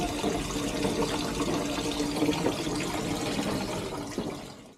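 Water splashes and trickles steadily in a patio fountain at the Alcazaba of Malaga, a close continuous wash of flowing water that cuts off at the end.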